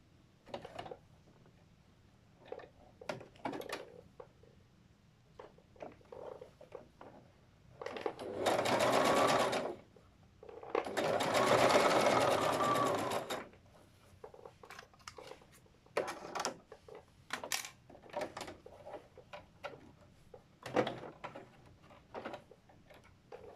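A sewing machine stitches a folded fabric edge in two close, steady runs of rapid mechanical whirring, each about two seconds long, set among scattered light ticks and handling clicks.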